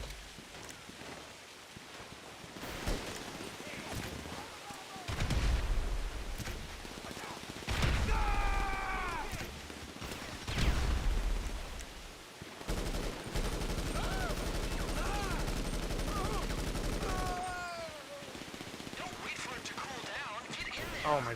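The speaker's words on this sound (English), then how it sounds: "Oh my god, who is shooting me right now?" Gunfire in Grand Theft Auto V during an online heist: scattered shots and bursts ring out among game effects and engine noise, mostly under a player's frequent talk.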